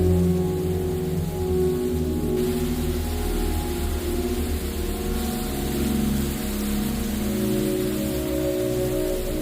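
Dense, steady rainfall pours down inside the Rain Room art installation, a continuous close wash of falling water with a low rumbling undertone and no voices.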